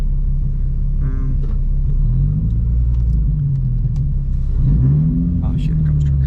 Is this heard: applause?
no